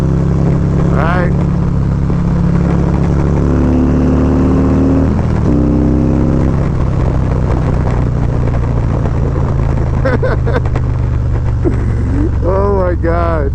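Stage 4 Harley-Davidson Street Glide anniversary edition engine while riding, a loud deep rumbling drone that rises in pitch as it accelerates through gears, close up, with someone talking excitedly over it.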